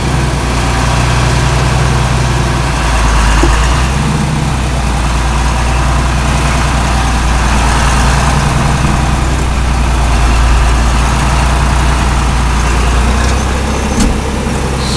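A diesel engine idles steadily after a cold start inside a shop, a loud continuous low rumble holding throughout with no talking.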